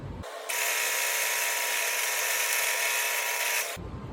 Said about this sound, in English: I'm gonna go over there and drill these so that they're all identical.